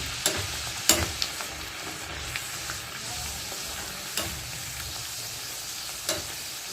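Sweet bajra puris fry in hot oil over a low flame, a soft continuous sizzle with occasional sharp clicks and spatters.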